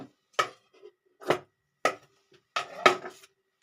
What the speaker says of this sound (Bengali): এটা দেড় ইঞ্চি করে কেটে দিলাম ষোলো ইঞ্চির মতন কেটে নেব